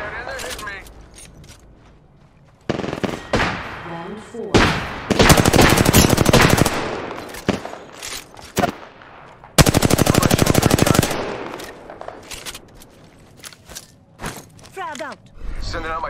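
Loud automatic weapon fire in Apex Legends, several sustained bursts and single cracks spread across the stretch, close and punchy, with quieter game noises between them.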